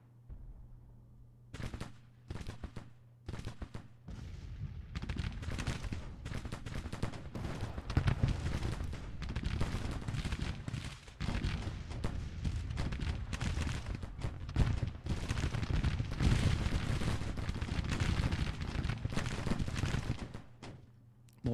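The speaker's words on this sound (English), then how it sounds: "Oop, the Williams guns have started." Williams guns firing in the Grand Tactician Civil War strategy game, a sustained battle din of repeated gunfire and booms spread over a long stretch, dense and continuous with mid-distance rumble.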